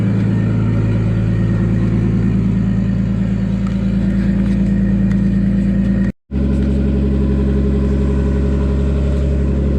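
A car engine runs steadily at close range after sitting unused for months, a loud continuous drone with a brief dropout partway through, no talking.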